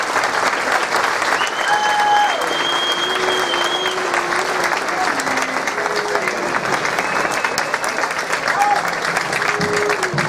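Honouring a municipal music band at a Santa Cecilia ceremony in El Paso, an audience breaks into dense, steady applause that stays loud for about ten seconds, with a few thin sustained tones floating above the clapping.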